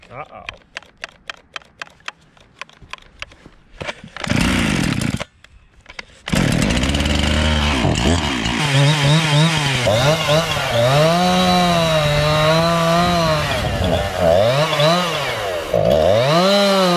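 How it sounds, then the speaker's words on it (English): A chainsaw with a freshly oiled bar, unused all winter, gives a run of quick pull-cord rasps and a few sputtering bursts, then catches and runs loudly, its engine note rising and falling. "I haven't run this chainsaw all winter."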